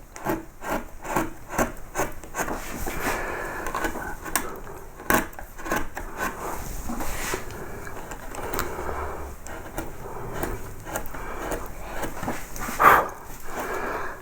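A carving tool trims back a glued-in wood knot repair, giving short rasping, rubbing strokes in an uneven rhythm, close and moderately loud, with no talk.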